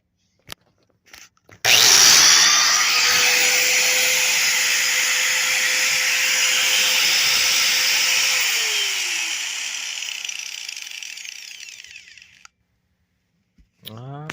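A Genesis 4 1/2 inch 6 amp angle grinder spins up loudly with a high whining hum, runs steadily for about ten seconds, then winds down as the whine slowly fades out.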